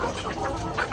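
Hens of Sonali, Peruvidai and Kadaknath breeds clucking on a rooftop egg poultry farm, a brief close burst of busy clucking with a sharper squawk at the very end.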